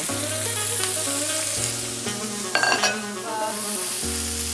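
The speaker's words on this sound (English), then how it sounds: "I'm just going to fry the vegetables." Vegetables and prawns frying in olive oil in a hot pan give a steady close sizzle throughout, with a brief clink of stirring partway, over a continuous musical background.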